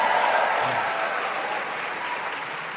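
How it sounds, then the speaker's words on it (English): Audience at a network marketing talk giving a round of applause, a steady wash of many hands clapping that stays strong and slowly fades slightly toward the end. "give yourselves a tremendous round of applause"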